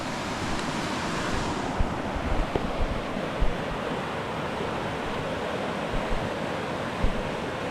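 Steady broadband rushing of a river running high near Wairaki Hut on the Te Araroa trail, continuous and close, with wind buffeting the microphone and a few faint knocks, no voices.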